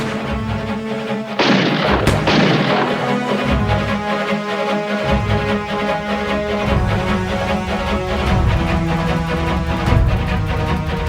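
Sharp gunshot cracks ring out at a wedding amid a loud, busy mix of music and crowd noise, with a few more bangs scattered later.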